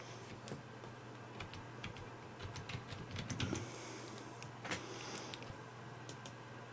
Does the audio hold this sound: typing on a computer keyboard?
yes